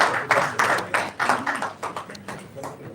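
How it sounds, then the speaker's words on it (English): Applause from an audience, a steady patter of many hands clapping with uneven bursts, moderately loud and fairly close. "Please round of applause for our moderator and our panelists"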